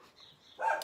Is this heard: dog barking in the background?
yes